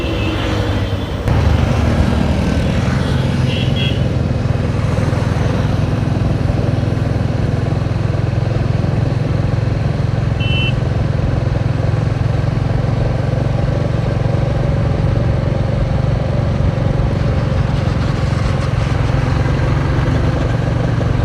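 A group of bikers on motorcycles setting off together, giving a continuous low engine rumble and idling drone that starts abruptly and holds steady throughout, with no speech.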